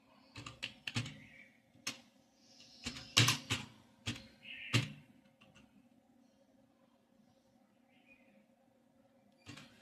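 Computer keyboard keys clatter in quick irregular bursts of close, crisp taps, followed by a longer quiet stretch with a single tap at the end, under a faint low hum.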